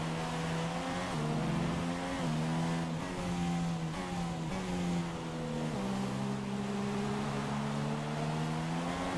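Formula 1 engines from the F1 2016 racing game at the Hungarian Grand Prix in Budapest, a steady high-pitched drone with pitch stepping up through gear shifts and dipping on lifts, loud and continuous.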